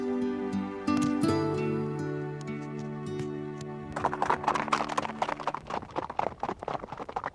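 Icelandic horses' hooves clip-clopping in a quick irregular patter that starts partway through, laid over sustained tonal music.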